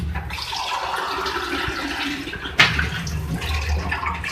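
Two glasses of water poured into a pan of beef korma, a loud splashing gush with a sharp burst midway, close and alone.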